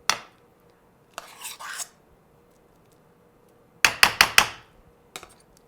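A spoon scrapes and spreads plantain mash across a dish for pastelon, giving brief soft rasping strokes in scattered bursts, with a quick cluster of sharper scrapes near the end and quiet gaps between.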